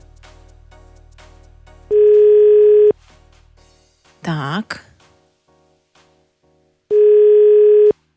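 Two long, steady telephone ringback tones separated by a pause, with a brief spoken word in between.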